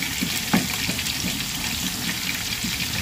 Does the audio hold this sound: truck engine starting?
no